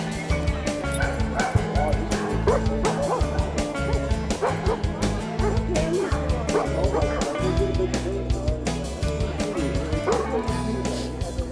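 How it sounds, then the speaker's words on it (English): Many dogs barking, yipping and whimpering at once at an outdoor Bark for Life charity event at a school in Ketchikan, a constant dense chorus near and far with people talking underneath. "there's got to be at least 50 dogs here"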